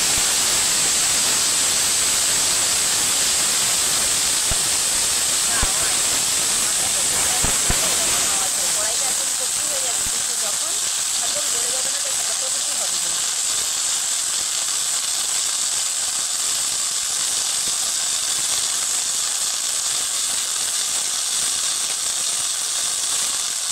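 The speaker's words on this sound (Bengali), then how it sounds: "একদম পরিষ্কার ধনে পাতা কড়াইতে দিয়ে" Washed coriander leaves added to a hot wok give a loud hiss and sizzle at the start, then ease into a softer, steady crackle that continues close by for the rest of the stretch.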